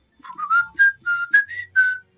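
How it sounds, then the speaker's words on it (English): A person whistles a quick run of clear, bright tones in short rising and falling bursts, near and alone, no talking, inside a doorway of a dungeon-like space during a tabletop adventure game. "I'd like to also whistle"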